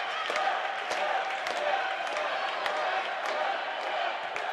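A home volleyball crowd at a Cedarville University match against Charleston rises at set point, a steady wash of cheering and clapping held at an even level, with a commentator talking over it.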